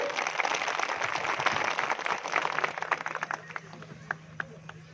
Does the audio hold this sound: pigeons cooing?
no